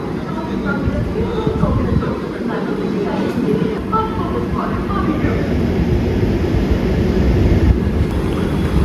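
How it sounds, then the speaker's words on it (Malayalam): The Ernakulam–Tatanagar Express, hauled by a WP7 locomotive, pulls away from a platform at Thrissur station with a continuous loud rumble and rolling rail noise. The din builds gradually, and station background sounds run underneath. "എറണാകുളം ടാറ്റാനഗർ ഇവിടുന്ന് തൃശ്ശൂരിൽ നിന്ന് ഡിപ്പാർട്ടായി. ടാറ്റാനഗർ ഷെഡിൻ്റെ തന്നെ ഒരു WP7 ആയിരുന്നു അതിൻ്റെ ലോക്കോ."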